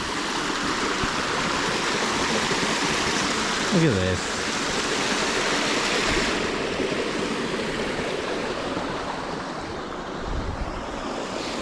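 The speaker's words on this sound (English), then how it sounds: "Look at this waterfall." A waterfall roars as a loud, steady broadband rush of falling water that fills the whole scene, with some wind buffeting the microphone and someone speaking briefly partway through.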